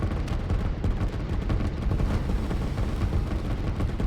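Massed artillery fire in the strategy video game Line War, a dense, continuous barrage of booming blasts and rumbling explosions, loud and steady throughout with no talk.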